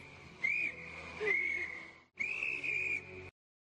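A rape whistle blown in two loud, shrill bursts, the first long and wavering and the second steady after a short gap, alone with no talking.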